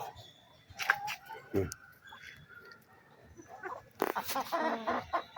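Chickens cluck in short bursts close by near their roofed shelter, with a louder cluster of calls near the end and some background noise.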